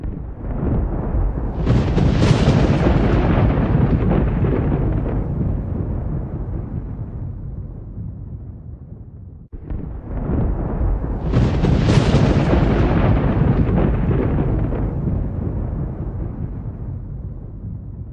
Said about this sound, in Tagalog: Isang malakas na kulog ang gumulat sa kanya.